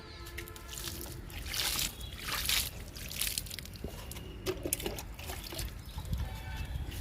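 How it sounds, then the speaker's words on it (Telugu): Water pouring onto okra plants in a garden bed, a continuous close trickle and splash into soil that swells and eases over several seconds, with no voices. "బెండ మొక్కలకి వాటర్ ఇస్తున్నా."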